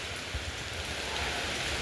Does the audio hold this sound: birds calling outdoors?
no